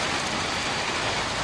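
A short burst of heavy rain, a loud continuous downpour hissing evenly across the whole moment with no talk.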